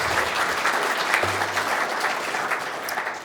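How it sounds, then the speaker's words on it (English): An audience at a breakfast talk event claps in a sustained round of applause that carries on steadily for a few seconds, close and fairly loud. "let's have a round of applause for everyone here"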